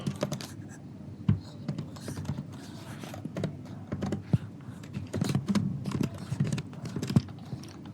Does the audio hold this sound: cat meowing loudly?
no